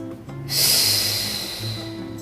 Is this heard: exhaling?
yes